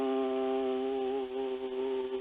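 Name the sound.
Indian musical drone instrument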